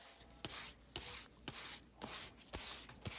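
A leather guitar strap edge worked by hand with fine sandpaper: steady back-and-forth rasping strokes in an even rhythm, close and moderately loud, about six passes with short pauses, no voices.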